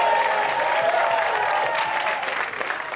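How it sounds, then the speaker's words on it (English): Studio audience applause greets contestants on a 1992 TV game show election special: steady, dense clapping that stays loud and sustained throughout, easing slightly near the end. "Big warm applause, please."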